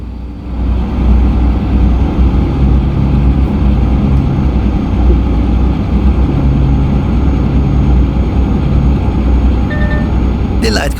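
A steady, loud truck engine drones through a driving simulator game, a continuous low rumble holding for the whole stretch, with a brief click and a faint beep near the end.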